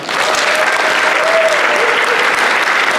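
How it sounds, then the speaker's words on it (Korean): A seated audience claps loudly to open a Korean community evening in Slovakia, a full, continuous wave of applause filling the hall, with a faint tonal whistle or hum drifting underneath. "한일의 행사를 큰 박수로 시작하겠습니다"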